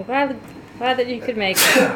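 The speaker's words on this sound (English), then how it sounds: "something's making me sneeze like crazy" A voice speaks briefly, then a sharp, forceful sneeze bursts out close by at the end.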